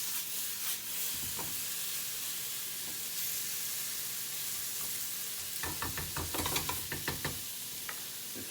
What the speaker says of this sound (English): We can let those tomatoes cook a little bit here.